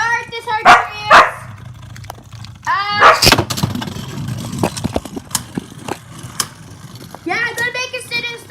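A dog barks close by indoors during a Beyblade Burst battle, giving a few loud barks spread across the stretch. Someone talks and shouts at it in between.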